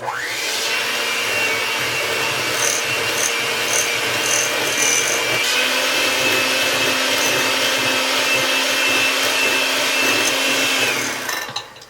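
An electric mixer whirs steadily and loudly, blending egg into snickerdoodle cookie dough, with a slight pitch drop midway and a clink as it stops.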